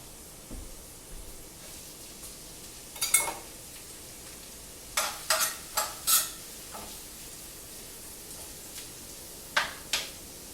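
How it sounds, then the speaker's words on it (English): Cabbage and onions sautéing in a pan, with sparse scraping and stirring strokes in scattered bursts over a faint steady hiss; no talking. "I want to saute the cabbage now with the onions"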